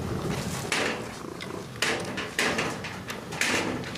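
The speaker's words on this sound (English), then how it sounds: "Purring." A house cat purrs softly and continuously up close, with a few faint knocks and bumps in the background. No one speaks.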